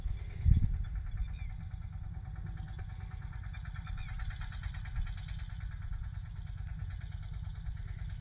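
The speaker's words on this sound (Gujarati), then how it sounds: "ટ્રેક્ટર લઈને હાલ્યા આવે છે" A tractor on a farm gives off a steady low engine rumble that drones on at moderate distance for the whole stretch, with faint chirping above it.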